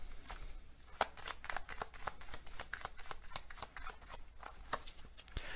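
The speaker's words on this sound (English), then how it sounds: "So let's get some oracle cards around what are their primary thoughts about you." A deck of oracle cards is shuffled by hand in a quick run of crisp, riffling flicks and soft slaps, close and faint, with no other sound.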